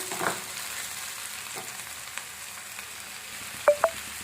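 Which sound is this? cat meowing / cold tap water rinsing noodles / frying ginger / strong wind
frying ginger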